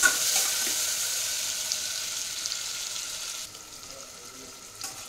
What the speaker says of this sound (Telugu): ఇవి పన్నీర్ అండి, ఫ్రై చేసుకుందాం ఫస్ట్.